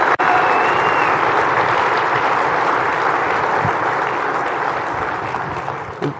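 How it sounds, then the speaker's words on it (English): Loud applause from a crowd at a fire school opening ceremony honoring a color guard, honor guard, and pipes and drums, steady clapping that slowly fades toward the end. "can we hear a round of applause one more time for the Color Guard, Honor Guard, and pipes and drums?"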